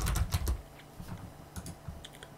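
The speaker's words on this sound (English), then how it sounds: "and in the terminal type this command" Fingers tap out a command on a computer keyboard in a Linux (Ubuntu) terminal, a quick close burst of clicks followed by a few scattered, softer keystrokes in a quiet room.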